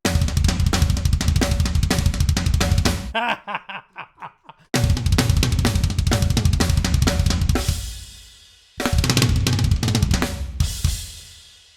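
Loud, fast virtual drum kit fills with bright, trebly tom hits, treble boosted, rolling in bursts, separated by brief pauses and decaying tails.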